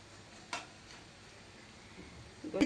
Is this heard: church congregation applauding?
no